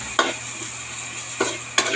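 Onion sizzling in a hot pan, a steady bright frying hiss punctuated by three brief scraping stirs, close and without talk.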